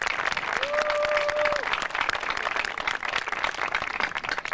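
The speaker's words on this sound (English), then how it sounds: "If we could have a nice round of applause welcoming Carrie Kennedy Cuomo." Crowd applause at the 1999 Papermill Island dedication ceremony, a steady round of clapping from a gathered audience that carries for several seconds before thinning out, with a brief high tone briefly sounding over it.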